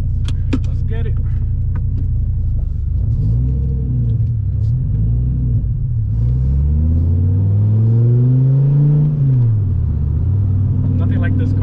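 A Dodge Viper's engine rumbles loud and close from inside the car while driving, its deep drone rising and falling in pitch as it accelerates and eases off, with someone talking over it.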